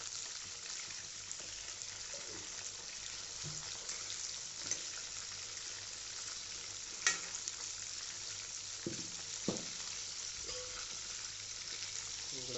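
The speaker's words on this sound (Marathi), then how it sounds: "पूर्ण झिंगे फ्राय करून घेऊ" Whole prawns fry in oil in a pan with a quiet, steady sizzle, broken by a few soft clicks and stirring scrapes and no talking.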